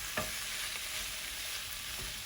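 Paneer pieces fry in a kadai with a steady, close crackling sizzle and occasional stirring scrapes, with no talk.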